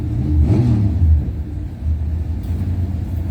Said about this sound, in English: Rear engine dragster.